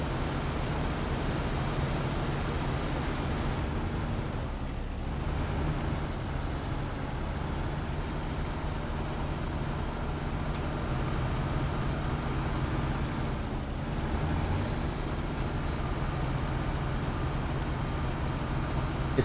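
A heavy truck in SnowRunner, on a timber delivery run at Island Lake, drones steadily with a low, continuous engine rumble throughout, with occasional brief air-brake hisses and no talk.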